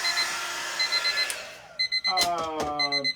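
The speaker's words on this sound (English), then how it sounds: "And there's the timer." A kitchen timer goes off with repeated electronic beeping, a sustained tone followed by a run of bright pulsed chirps, clear and fairly close.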